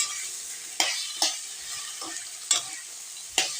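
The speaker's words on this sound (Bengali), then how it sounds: "ভালো করে এমনি করে কষে নিতে হবে" Taro leaves cooking with sesame and poppy seed paste in a pan, quiet sizzling broken by four sharp scraping strokes of a spatula at uneven intervals, close and alone with no talking.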